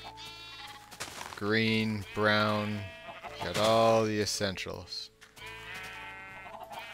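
Sheep in the Minecraft video game bleat in a few drawn-out cries while someone talks over them during gameplay.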